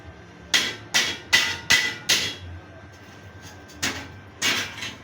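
Sharp hammer blows ring out in a quick series of about seven strikes, a short pause, then two more, fairly close and loud.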